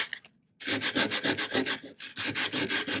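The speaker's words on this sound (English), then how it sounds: "I'm just sanding it" Rhythmic, close-up scratchy rubbing of 220 fine grit sandpaper on metal, steady back-and-forth strokes after a brief pause, with one short break midway.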